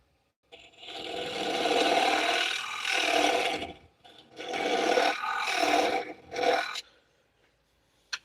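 A piece of wood is cut off at the end, heard as a steady broadband rasping saw stroke lasting several seconds, a brief pause, then more sawing in uneven bursts before stopping with a faint click; close and fairly loud, no talking.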